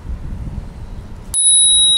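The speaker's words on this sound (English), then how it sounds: "This is a spur bell." A Spurcycle bicycle bell gives one sharp, loud ring that sustains with a clear metallic tone, cutting in after low background rumble.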